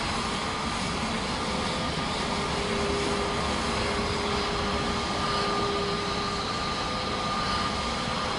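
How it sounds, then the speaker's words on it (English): An Airbus airliner sits on the ground during pushback in Microsoft Flight Simulator 2024 on PS5. A steady, even engine and air hum continues throughout with no talk. "Here comes our pushback. As soon as they hook up, I'll get the brake off."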